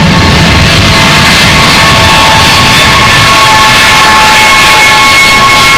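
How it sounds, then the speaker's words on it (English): A C-5 Galaxy military transport aircraft taxis onto the active runway at an air show, its jet engines giving a steady, broad roar with a high whine, loud and continuous throughout. "And now being turned on the active runway is the C5 Galaxy"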